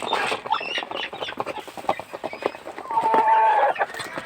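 Several chickens cluck and chatter nearby in quick, irregular bursts, with a brief higher squawk toward the end; no talking.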